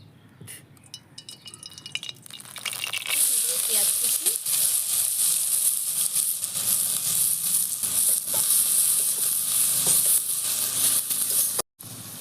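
Ginger, garlic and onion fry in mustard oil in a kadhai, a steady close sizzle that rises after a few seconds and holds throughout, with faint clinks and a brief cutout near the end.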